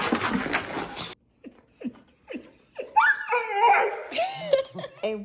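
Excited dog reacting to going for a walk, giving short barks and yips that rise into high whining whimpers, close and loud, with a brief voice at the start.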